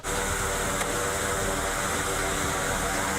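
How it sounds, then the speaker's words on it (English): Engines of the DirecTV blimp starting up before takeoff from Grosse Ile, a dense, steady roar with a broad hiss that comes in at once and stays loud and unbroken throughout. "Fire up the engines."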